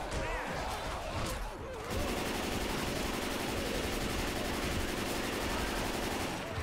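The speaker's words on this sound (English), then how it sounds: "I'm just gonna keep shooting at the tank." Dense, continuous automatic gunfire from a Left 4 Dead 2 survival match, rapid bursts aimed at the Tank boss, loud and close, with a brief lull near the start before unbroken shooting.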